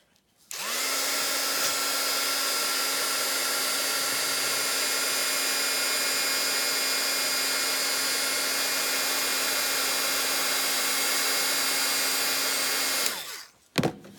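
A heat tool runs steadily for about twelve seconds, melting silver embossing powder on card, a constant loud whirring blower hum with a high whine that starts and stops abruptly.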